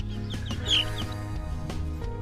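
Hens clucking and murmuring close by in a coop, with a few sharper squawks over a low steady background hum.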